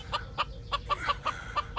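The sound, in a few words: chicken clucking in a video game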